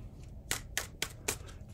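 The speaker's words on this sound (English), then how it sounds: "A couple more shuffles." Tarot cards being shuffled by hand: four quick, crisp riffling bursts in a steady rhythm, close and quiet against a low background hum.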